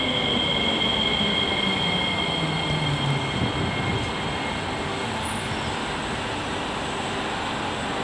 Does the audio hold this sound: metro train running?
yes